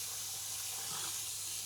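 Steady hissing rush of tap water running over a towel as it is wetted, close and moderately quiet, with no voices.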